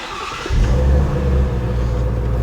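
A Ford Mustang Shelby GT350's 5.2-liter V8 cranks and fires about half a second in, settling into a loud, deep, steady idle close to the microphone.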